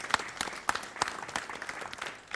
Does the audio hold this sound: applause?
yes